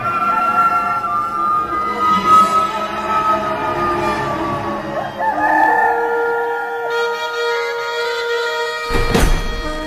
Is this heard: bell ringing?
no